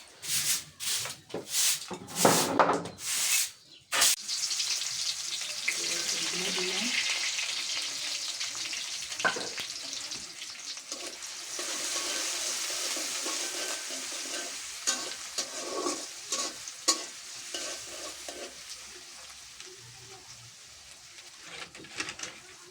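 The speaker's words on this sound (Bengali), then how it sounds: "মাথাগুলো আগে তেলের ভিতরে বেঁধে নিয়ে তারপরে কলা আর আলুগুলা দিলাম" Fish heads, banana and potato fry in hot oil, a dense continuous sizzle broken by several sharp clattering stirs at the start and scattered scraping knocks later, with no voices.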